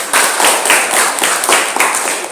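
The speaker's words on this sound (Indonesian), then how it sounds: "Tepuk tangan" A classroom of children claps hands together in a rhythmic pattern, sharp bursts repeating at a regular beat, close and fairly loud.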